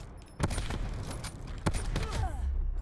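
Sniper rifle fire in Call of Duty: Black Ops 4, the Locus sniper, with two sharp loud shots about a second apart amid game background noise.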